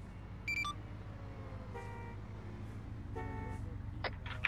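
Civilian car in the Arma 3 video game rolls along with a steady low engine drone, punctuated by a short horn toot early on and further honks later, while distant beeps and tones sit over the running motor.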